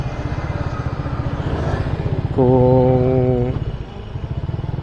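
Motorcycles in roadside traffic rumble nearby with a steady pulsing engine drone, and a loud horn-like tone blares for about a second midway; a voice speaks briefly.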